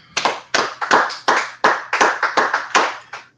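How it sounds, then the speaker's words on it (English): About a dozen crisp, loud hand claps ring out close by in an uneven rhythm, each sharp and quickly decaying, with brief gaps between them. "Clap it up."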